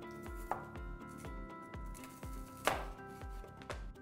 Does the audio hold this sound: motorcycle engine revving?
no